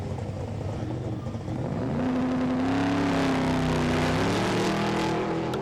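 A Chevy-engined Ford Capri drag race car launches off the line, its V8 engine roaring up in pitch and holding a loud, steady drone as it pulls away, heard from a short distance.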